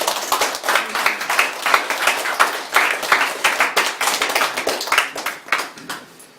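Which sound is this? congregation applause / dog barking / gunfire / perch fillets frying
congregation applause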